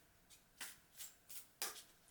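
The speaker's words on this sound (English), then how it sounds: "I'm going to shuffle the deck." A deck of cards being shuffled, with several short papery riffles and flicks at an irregular pace, close and fairly quiet, no talking.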